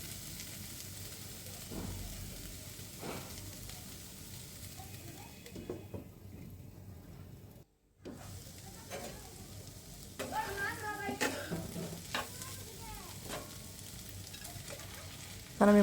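Food fries quietly in a pan while a utensil stirs it now and then, giving low sizzling with scattered scrapes and clinks; the sound briefly drops out midway, then returns slightly louder.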